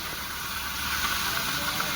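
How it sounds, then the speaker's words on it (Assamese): Moong dal fritters mixed with onion, chilli, turmeric and salt fry in hot oil in a kerahi. The sizzle is steady, dense and close, with no pauses. "এয়া মই ভাজি আছোঁ"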